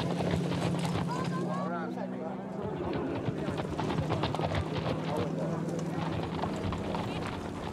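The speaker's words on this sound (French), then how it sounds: "Tout en tirant le sulky, les chevaux doivent trotter le plus vite possible." Trotting horses pulling racing sulkies at a harness race during Minorca's Saint John festivities, a rapid blur of hoofbeats and wheels with crowd noise and loud wind, no clear speech.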